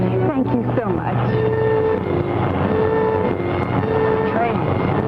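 Train noise from a 1945 film noir crime picture: a steady mechanical rumble with whistle-like tonal lines, a loud sustained wash under dramatic dialogue and music.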